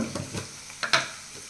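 Onion and tomato frying in a pan: a brief, close sizzle broken by a few quick scraping stirs, with a sharper scrape near the end. No one speaks.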